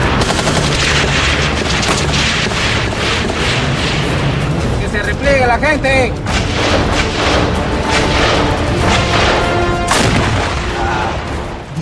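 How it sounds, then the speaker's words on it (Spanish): Loud, dense gunfire and booming bursts during an attack from thick jungle on the Mazángaro counter-subversive police base, continuous throughout, with shouted voices heard over it. "disparos que salen de la espesura de la selva sin que los policías puedan ver a su enemigo."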